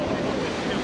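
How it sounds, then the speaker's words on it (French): Strong wind of over 20 knots blows at sea aboard the sailing yacht Madiba off Portugal, a dense, steady roar buffeting the microphone with wave wash underneath. "Il y a plus de 20 nœuds de vent là maintenant."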